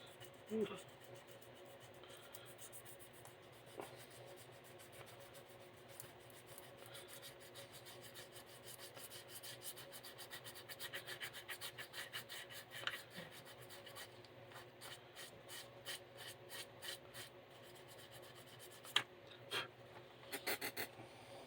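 Hand sanding with 3M sandpaper on a long pacer build, a steady rasping rub that grows into quick rhythmic back-and-forth strokes, close and moderately loud.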